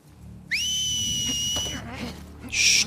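In The Last of Us Part II, a clear two-tone whistle rises and holds for over a second before breaking off, followed by game sounds and a bright, harsh burst near the end.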